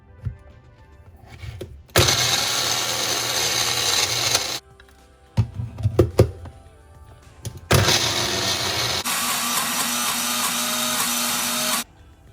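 A blender whirs loudly as it blends fruit for sorbet, running in two long bursts of a few seconds each. Brief clatter and quieter gaps fall between the bursts, with no voices.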